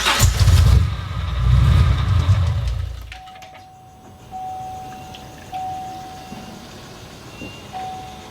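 A car engine fitted with a newly installed Magnuson supercharger cranks loudly and roughly for about three seconds, then drops to a quieter background with a thin steady tone and faint knocks.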